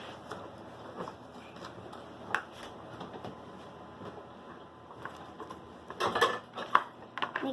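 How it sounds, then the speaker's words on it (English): A spoon scrapes and clinks against a bowl while slime ingredients, baking powder among them, are stirred together, with soft scraping at first and then a cluster of sharper, louder clinks near the end. "Let's start mixing"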